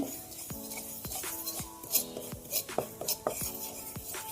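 Gram flour being stirred in a pan for semolina halwa: a spoon scrapes and clinks against the metal in irregular close strokes, with soft rustling between them and no voices.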